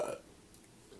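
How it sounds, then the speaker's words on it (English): A short, low burp right at the start, moderately loud and close, then fading into quiet room tone. "That was not the best burp."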